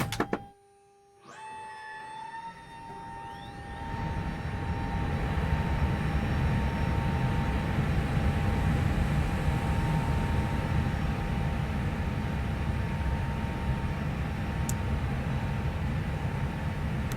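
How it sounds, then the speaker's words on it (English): An Airbus A320neo with PW1133G engines powering up in a flight simulator soundpack: after a near-silent start and a rising electrical whine, a steady broadband roar of fans and systems builds and holds, with a high tonal hum throughout. "how about we get this airplane powered up and you simply listen to the sounds."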